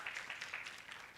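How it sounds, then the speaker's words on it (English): Audience at a mental health awareness workshop clapping, a short burst of scattered applause from a modest crowd, fairly faint and distant. "Please clap for her."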